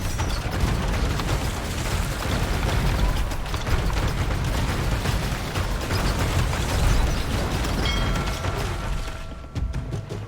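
Cannon galleons fire during a naval battle in the video game Age of Empires II, a dense, continuous barrage of booms and bursts layered over busy battle noise, loud throughout.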